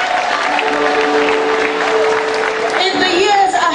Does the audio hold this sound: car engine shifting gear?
no